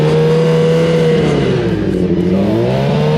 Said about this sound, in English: So I'm gonna rev to like 4 grand.